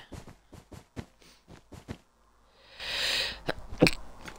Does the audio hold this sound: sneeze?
yes